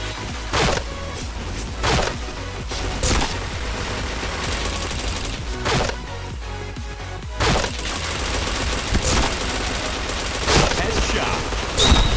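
Bursts of gunfire from the shooter game PointBlank, several rapid volleys spaced every second or two, loud and close, with a few brief shots in between.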